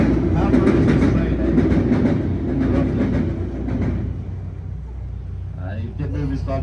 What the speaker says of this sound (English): How far is this train